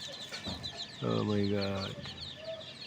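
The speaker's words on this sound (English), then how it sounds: "here is all of my backyard chickens inside" Backyard chickens clucking indoors, a dense steady chorus of hen calls with one louder drawn-out call in the middle, close by, with a person speaking briefly over them.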